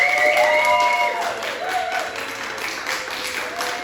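Comedy club audience applauding as a vote on a comedian's goatee, with whistles and cheers on top of a steady clatter of clapping that eases off slightly after the first second.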